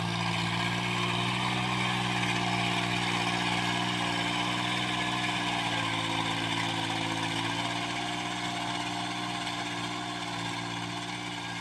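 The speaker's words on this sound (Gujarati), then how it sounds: "તો કેતવ ચલવે છે ટ્રેક્ટર" A small farm tractor, driven by a child and used for rotavator work, runs with a steady, droning engine note at a near-constant speed, close and continuous with no talk over it.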